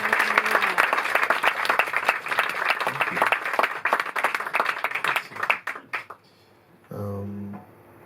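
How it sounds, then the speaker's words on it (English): Audience applause at a jazz club concert at Duc des Lombards in Paris, loud sustained clapping for about six seconds that stops abruptly, followed by a brief voice. "can we please give a round of applause for this heavenly cohort that we have?"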